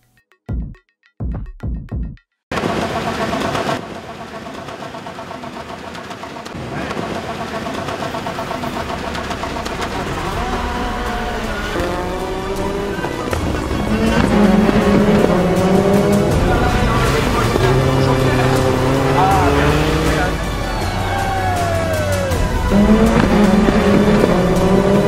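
Rallycross race cars in a semi-final heat of six cars lined up in three rows of two, engines roaring loud and continuous with rising and falling revs and tire squeal, after a few brief starting bursts.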